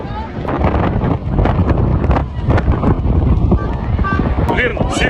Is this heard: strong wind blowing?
yes